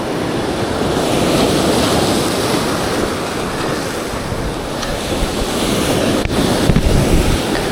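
Ocean surf rolls in at a rough, windy shoreline during fishing in bad weather, a continuous loud wash of waves mixed with strong wind buffeting the microphone, with a few brief knocks near the end.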